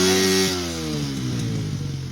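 A motorcycle engine revs in first gear beside a stream during a bike wash, a loud close rising buzz whose pitch steps down and then climbs again over about two seconds.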